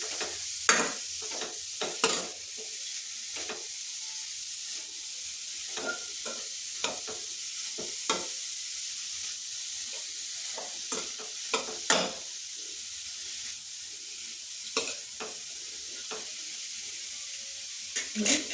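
Shredded cabbage frying in oil in a pan for a home-style cabbage side dish, with a constant bright sizzle broken by repeated scraping strokes of a spoon stirring it, close and fairly loud.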